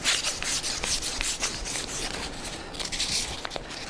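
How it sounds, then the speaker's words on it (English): Sandpaper scrubbing a dirt bike handlebar surface to clear old grip glue residue, a close, steady series of rapid rasping back-and-forth strokes with no talking. "just doing a little bit of sanding here to clean up this"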